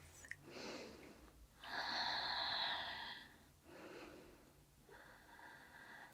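Slow deep breathing during a gentle winter solstice yoga session, with soft airy inhales and exhales drawn out over several seconds, faint and close with no talking.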